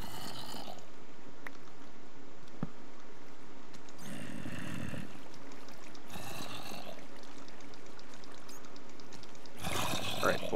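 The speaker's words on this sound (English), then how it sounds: "Can't fight them water currents" Rushing water currents in the video game Minecraft flow steadily throughout, with louder surging bursts around the middle and near the end, heard alone without talk.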